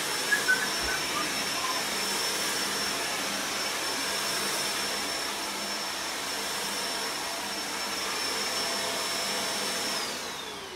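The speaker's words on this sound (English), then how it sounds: "turn it on and then you're gonna vacuum the whole room" A household vacuum cleaner runs steadily in a room, a loud, continuous whooshing drone with a faint high whine and a couple of brief knocks at the start.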